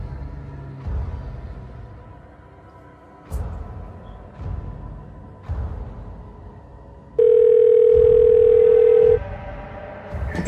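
Telephone in a suspense short film: low rumbling, repeated knocks and a steady electronic tone that cuts in for about two seconds, loud and close with no talk.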